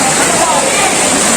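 Water rushes with force at Bhairawakona waterfall, a loud, steady, close broadband roar that fills the whole moment and may mask a voice beneath it.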